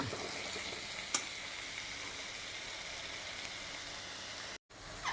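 Oil sizzles steadily in a pan while being stirred, a constant crackling hiss with a couple of faint utensil clicks and a brief dropout near the end; no one speaks.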